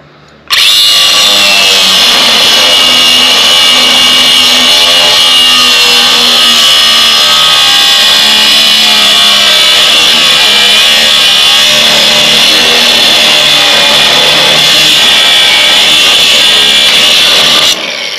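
A power tool cuts through bent angle iron under a trailer floor, giving a loud, steady high-pitched whine and grinding that runs nearly unbroken from start to finish, up close and with no talk.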